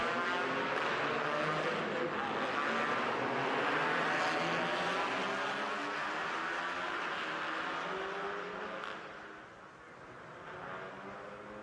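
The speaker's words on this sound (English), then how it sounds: "here are the cars now into the formation lap" TCR touring cars, including a Honda Civic, roll around Interlagos on the formation lap: a broad, sustained engine drone swelling and fading as the pack passes, fairly distant, with a dip near the end.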